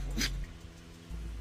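A single short, sharp sneeze bursts out at the start, close and brief, then gives way to a quiet room with low background hum.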